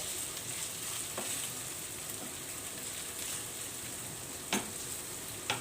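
Rice for pilaf toasting in a pot and being stirred, a steady soft sizzle and crackle with a few sharp scrapes and clicks of the utensil against the pot, and no talk.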